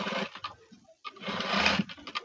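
A sewing machine stitches a blouse in short bursts of close mechanical whirring, separated by a brief pause.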